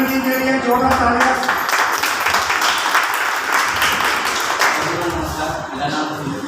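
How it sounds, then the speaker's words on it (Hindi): Loud, sustained applause from a crowd at a business meeting, dense clapping that fills the whole stretch and slowly fades a little toward the end. "जोरदार तालियां"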